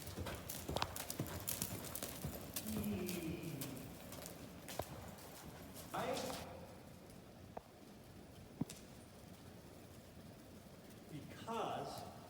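A horse cantering around barrels in a barrel racing training session, with rhythmic hoofbeats thudding across the arena at moderate distance, birds faintly in the background and a rider talking over it.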